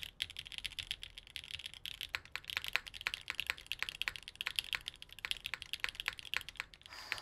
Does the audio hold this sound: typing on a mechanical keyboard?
yes